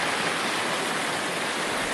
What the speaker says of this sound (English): We have a mountain stream right in our yard.